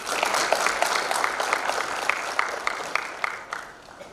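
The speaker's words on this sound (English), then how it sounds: "let's give a round of encouraging applause to the Secretary to the Treasury as he comes forward" A crowd at a budget symposium gives a round of applause for an official stepping forward, dense clapping with some sharper individual claps standing out, tapering off toward the end.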